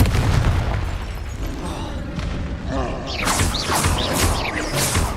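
Booming magical blasts from the Confringo fire spell in the video game Hogwarts Legacy, with thuds and crackling bursts repeating over a few seconds amid spell-combat effects.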